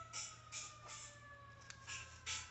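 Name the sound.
distant emergency vehicle siren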